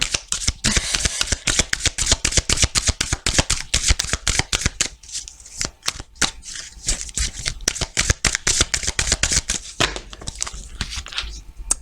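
Tarot cards are shuffled by hand in a long, steady run of quick riffling slaps and flutters, close and fairly loud, with a short pause partway through and no talking.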